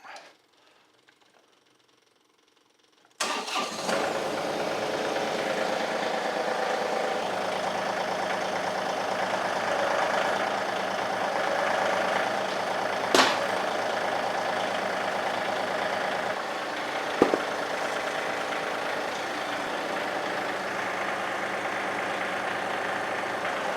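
After a brief quiet moment, a John Deere tractor's diesel engine rumbles steadily at idle, a constant mechanical chug with a couple of faint knocks.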